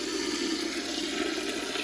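A handheld bidet sprayer gives a strong, steady hiss of spraying water, close and continuous for a couple of seconds with no voices.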